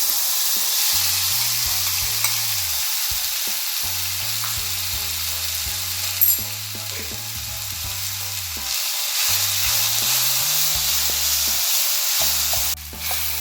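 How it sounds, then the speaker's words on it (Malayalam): Jackfruit cooking and being stirred in a pan on the stove for a kozhukkatta recipe: a loud, steady sizzle with occasional scraping from the stirring. Quiet background music plays throughout. "ചക്ക 2 മിനിറ്റ് നമ്മളിവിടെ കുക്ക് ചെയ്തെടുത്തിട്ടുണ്ട്"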